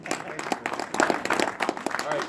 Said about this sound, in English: Let's all applaud.